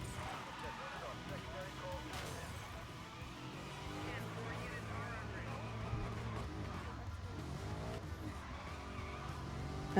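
Car drifting in the Need for Speed video game, with engine drone and tire skid running continuously underneath steady talking throughout.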